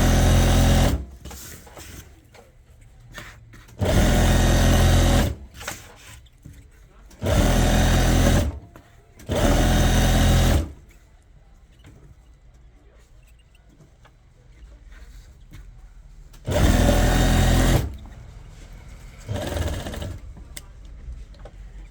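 A sewing machine stitches lace trim onto a dupatta in four or five loud, rapid bursts of several seconds each, separated by quieter gaps where a voice talks.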